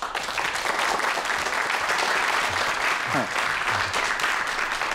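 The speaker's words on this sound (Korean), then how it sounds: "여러분 큰 박수로 환영해 주세요" Applause from a studio audience welcoming the founder of a ribbon business onto a Korean TV startup show, dense and steady at moderate loudness throughout, with a few faint voices underneath.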